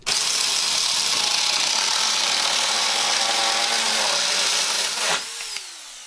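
A Huing mini chainsaw cuts through PVC pipe with a loud, steady, high-pitched buzzing whine for about five seconds, then the cut finishes and the motor winds down to a lower idle near the end.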